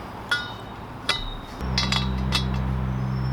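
A metal roof bracket being closed around a pipe, with a few sharp metallic clinks followed by a low steady hum.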